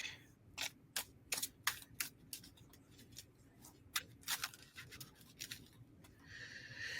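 Playing cards are shuffled in a series of quick, crisp riffling and snapping bursts, close and fairly quiet, irregular in rhythm, against a low background hum.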